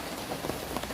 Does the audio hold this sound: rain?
yes